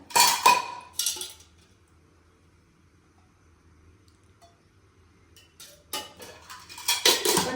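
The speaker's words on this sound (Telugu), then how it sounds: "ప్యాన్ పెట్టుకొని కొద్దిగా ఆయిల్ వేసుకుందాం" A metal pan is set on a stove with a few sharp clinks and clatters at the start, followed by a long quiet stretch, then more metallic kitchen clinks near the end.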